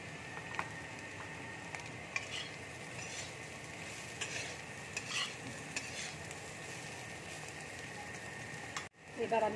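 An egg fries in a pan with chili flakes, a soft continuous sizzle broken by light stirring scrapes and utensil clicks, quiet and close.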